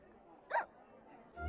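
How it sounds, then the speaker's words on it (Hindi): A single short hiccup from a person, sharp and close, standing out over quiet room tone. "देखा ना हिचकी बंद करवा दी ना मैंने।"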